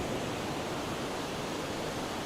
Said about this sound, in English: You can hear this water